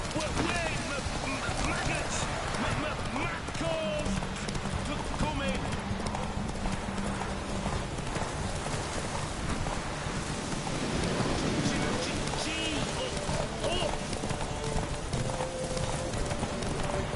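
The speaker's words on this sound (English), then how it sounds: "Whoa there, Roach" Horse hooves clip-clop at a gallop through steady rain in The Witcher 3, with occasional thunder and a whinny, continuous and fairly close, while a voice speaks over parts of it.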